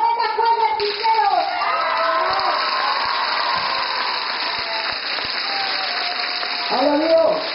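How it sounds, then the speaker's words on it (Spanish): A crowd at an outdoor political rally claps and cheers, the applause running steadily beneath loud amplified voices and some children's voices, with a tonal whistle-like sound held throughout. "Recibamos con un fuerte aplauso"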